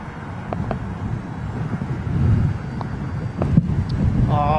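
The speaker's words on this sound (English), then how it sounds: "Oh, blooming heck, wind." Gusty wind buffets a microphone outdoors at London Heathrow, making a continuous low rumble that surges and eases, with faint distant aircraft and traffic noise beneath.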